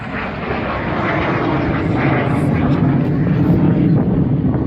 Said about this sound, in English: Mark Fitzgerald now coming in the third, fourth flying training scheme Gnat, just pulling up in front of your eyes now into a half Cuban.